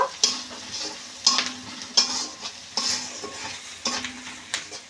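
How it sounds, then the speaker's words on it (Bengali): Turmeric and chilli powder are stirred into frying pointed gourd masala, a spoon scraping the pan in about six regular strokes over a constant sizzle. "আবার একটু বেশ ভালো করে নেড়ে নেব"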